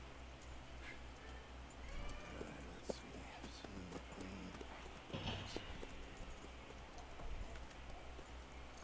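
Horse hooves clip-clop at a walking pace in the video game Red Dead Redemption 2, a quiet rhythmic clatter over a low background hum.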